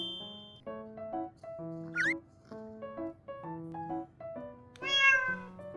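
A cat meows repeatedly in short, close calls, some rising and falling in pitch, with one longer, louder meow near the end.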